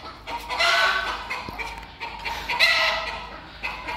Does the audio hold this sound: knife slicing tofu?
no